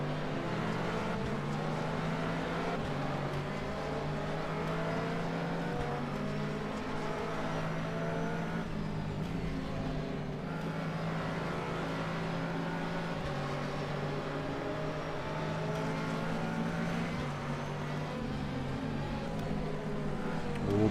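Race car engines roar steadily through a sim sports-car endurance race at Mid-Ohio as one car chases another, a sustained loud drone with shifting pitch and gear changes, no talk.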